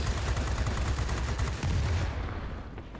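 Aircraft guns in World of Warplanes fire in a dense, continuous rattling burst, loud and close, then trail off slightly toward the end with no voices.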